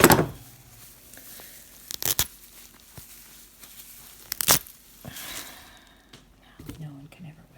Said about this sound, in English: I'm going to really cut this one up.